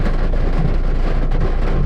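Heavy rainstorm with thunder during a truck delivery run in Nong Ki, Buriram, Thailand: dense, steady broadband roar of pouring rain with a low rumbling undertone, loud and constant throughout, no voices.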